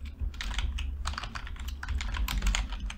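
Quick irregular clicking of keys on a computer keyboard, close and steady for the full few seconds with short pauses between bursts, no voices.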